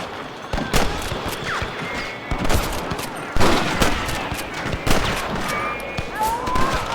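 Rapid gunfire during a shootout with guards in Red Dead Redemption, a string of sharp, loud cracks and shots fired in irregular succession across the whole stretch, with ringing tails between them.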